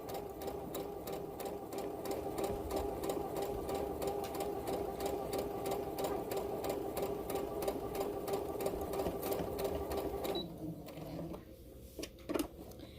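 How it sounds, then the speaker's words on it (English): A home sewing machine stitches a fabric face mask, its needle hammering in a fast steady rhythm close by for about ten seconds, then stopping abruptly and leaving a quiet tail with a couple of faint clicks. "So I sewed from this section of the mask all the way to the end"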